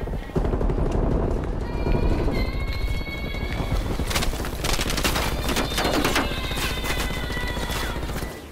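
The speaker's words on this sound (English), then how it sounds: "Now they just shooting someone." Rapid gunfire in a video game, with dense bursts of shots running nearly continuously and loudly from start to finish, layered over other game sounds.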